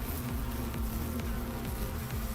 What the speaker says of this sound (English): the swarm of bees that had been hovering above us made a beeline for the fallen commanders